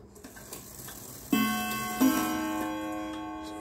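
A Rivex two-key chime clock with three rods strikes the half hour, two struck chimes about a beat apart, each ringing on with long sustained tones over a soft background tick, close and clear.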